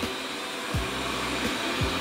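Xiaomi Mijia LDS robot vacuum cleaner running on a dusty IKEA coffee table, giving a steady loud whirring hum, with brief rising motor whines or scrapes as it turns, and no talking.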